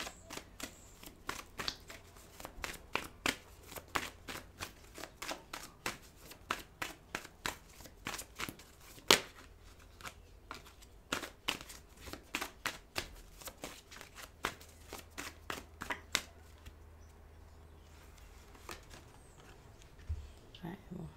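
Tarot cards are shuffled for an extra draw in a steady flurry of soft, rapid card flicks that continues for a long stretch, close and quiet, with a voice speaking faintly now and then.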